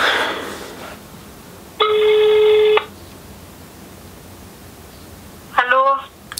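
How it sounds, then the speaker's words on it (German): A telephone call ringing out over a line: a steady electronic ring tone lasting about a second, followed by a warbling burst of tones after a pause, all under faint line hiss with no voices. "Jetzt rufe ich nochmal die Leonie an und spreche ihr im Notfall auf die Mailbox, falls sie nicht dran geht."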